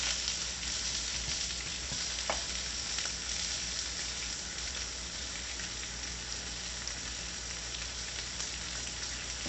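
Pork roll slices frying and browning in a pan, a steady close sizzle with faint crackles and a brief clink, no voices.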